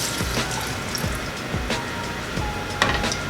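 Shrimp for salted egg shrimp sautéing in hot oil, a loud, continuous sizzle close by, dotted with regular sharper spits and pops.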